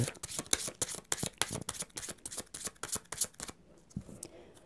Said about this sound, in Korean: 우리 이번 분들 지금 자신의 카드를 한번 뽑아 보도록 할게요